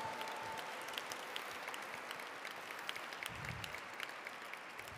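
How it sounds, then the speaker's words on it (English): A gala audience claps steadily throughout, a faint, sustained round of applause with scattered individual claps standing out. "Come on, y'all, another round of applause for Chris Turner."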